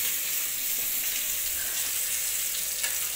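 Food frying in a pan in a home kitchen while a mother cooks, a steady dense sizzle with faint stirring clicks, close and even throughout, no voices.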